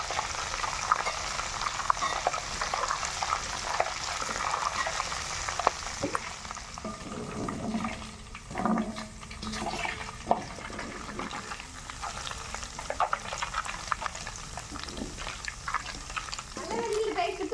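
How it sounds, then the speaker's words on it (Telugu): Oil heats and fries in a pan for prawn pickle, a continuous soft sizzle with bubbling and occasional stirring scrapes, fairly faint and close, with a voice talking over it in places. "పచ్చివాసన పోయేంత వరకు నూనె ఇలాగ వేయించుకుంటా"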